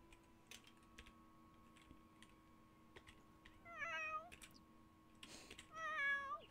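A pet cat in a new home gives two short meows, faint and a couple of seconds apart, over quiet room tone scattered with light clicking taps.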